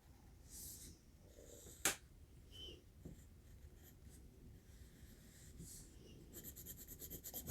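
A thick 5.6mm Angel Mark graphite pencil scratches softly across paper in scattered strokes, faint and close, building into quicker rhythmic shading rasps toward the end, with no talking.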